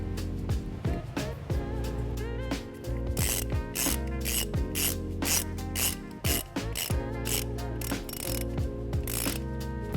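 A ratchet tightening the nut that holds a power wire ring terminal on a battery positive stud during trailer wiring work on a 2018 Nissan Sentra, with a steady run of rapid pawl clicks close by, broken by brief pauses.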